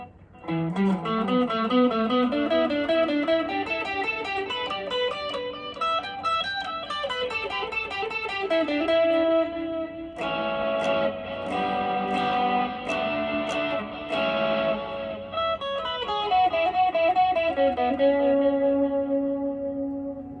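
A PRS SE Paul's Guitar with humbucker pickups plays melodic phrases drenched in echo delay and reverb, notes repeating and trailing off, with a brighter, choppier passage in the middle.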